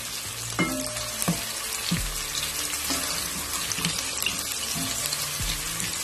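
Sliced onion frying in oil in a pan gives a loud, steady sizzle with scattered crackles and a few scraping stirs, with no one talking.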